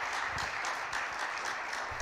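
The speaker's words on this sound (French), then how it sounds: "Faisons des acclamations de victoire" A congregation at an Easter seminar applauds in celebration, a continuous, fairly distant wash of many hands clapping, steady and unbroken for a couple of seconds.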